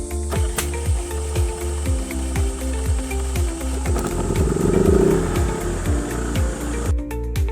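The BS6250iE 5 kW gasoline silent inverter generator starts up as a close, steady train of rhythmic mechanical thumps. The pulses swell into a rougher burst midway, then cut off abruptly near the end.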